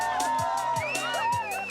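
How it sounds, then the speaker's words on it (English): A small crowd of rally teams cheers and whoops as the last-place team crosses the finish line at the 1997 Camel Trophy in Mongolia, steady close cheering across the short stretch. "the other teams come out to cheer the last place team over the line"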